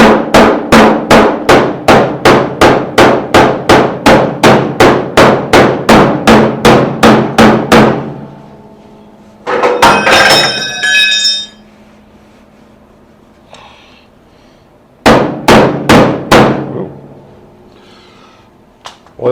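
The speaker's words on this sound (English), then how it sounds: "take my hammer and just go in here and see what we can do" A hammer taps dents out of a car body panel in a fast, steady run of about twenty sharp metal strikes, then pauses and resumes with a few more clustered blows, loud and close.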